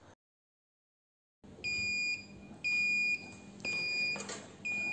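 An electronic aquarium water level alarm on a Kamoer ATO One auto top-off unit beeps in a repeating pattern of high, sharp tones, sounding about once per second after a brief silence, close and fairly loud.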